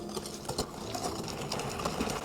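Biscotti dough of egg, sugar and orange zest being mixed, likely with an electric mixer, giving a steady close motor whir with slight rhythmic fluctuation throughout.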